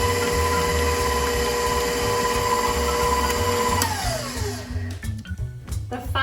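Electric mixer beating chocolate Bundt cake batter in a bowl, a loud steady motor whine that winds down near the end, followed by a few scraping knocks.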